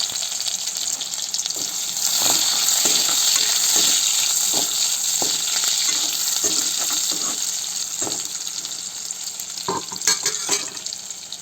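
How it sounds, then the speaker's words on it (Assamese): Onions sizzle and crackle loudly in hot oil, a continuous frying hiss with occasional sharper pops and stirring scrapes. "এইখিনি ধুনীয়াকৈ ভাজি লওঁ ৰঙচুৱা হোৱালৈকে"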